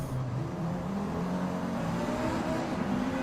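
Race cars in Forza Motorsport, including KTMs, Audis and a Ginetta, launching off the start line, a steady loud engine drone with rising revs held throughout, no talk over it.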